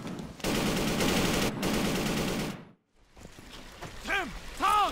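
Loud sustained burst of automatic gunfire in an Inversion video game cutscene, rattling continuously for about two seconds before cutting out, followed by quieter mechanical sounds and a voice.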